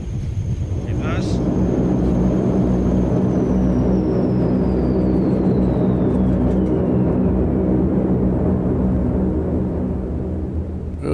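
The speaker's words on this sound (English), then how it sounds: "Here we are, we're down. Let's get the reversers." A Lockheed Constellation L1049 in Microsoft Flight Simulator 2020 roars loudly and steadily with thrust reversers engaged after touchdown, a continuous deep propeller-engine rumble with a faint descending whine above it.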